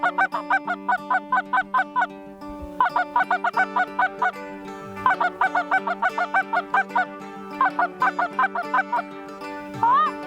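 Canada geese honk repeatedly in rapid bursts of nasal calls, several birds calling together in rhythmic volleys over a field by the Snake River, loud and fairly close.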